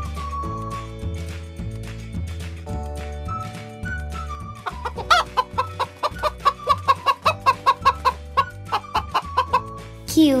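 A hen clucks in a quick, rhythmic series of short pulses over gentle background music, after an opening stretch of music alone.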